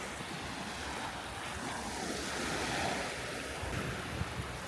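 Ocean surf washing onto a quiet, empty Grand Turk beach, a continuous broad rush of waves with wind buffeting the microphone, steady and fairly close, no voices.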